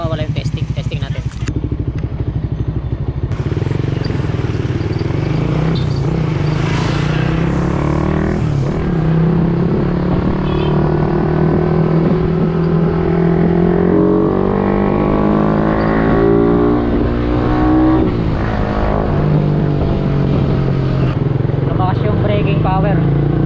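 Raider 150 FI motorcycle fitted with a floating disc, its engine running loudly and continuously, revving up and down in pitch while someone talks over it.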